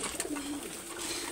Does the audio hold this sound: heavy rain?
no